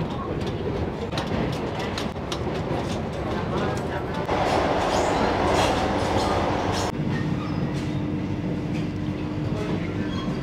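Vande Bharat Express running on rails between Puri and Howrah, heard from inside an executive chair-car coach: a steady rumble with rhythmic clickety-clack of wheels over track joints, continuous and fairly loud throughout.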